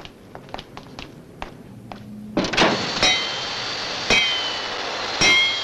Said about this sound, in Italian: E come si rimuove lo spezzatino? A martellate.